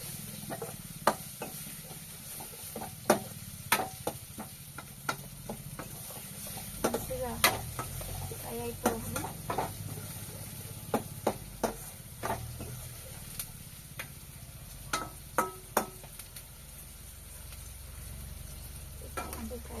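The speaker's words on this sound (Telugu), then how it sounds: "ఇలా బాగా ఫ్రై చేసుకుంటున్నాను" Something fries in a pan as the first step of an egg curry, giving a low continuous sizzle with sharp clicks of a spatula against the metal at irregular intervals throughout.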